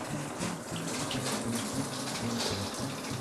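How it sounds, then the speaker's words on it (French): Hot water from a home shower runs in a steady, full hiss and gush that stays constant throughout, close by and with no talking. "Je peux prendre ma douche. L'eau sort chaude."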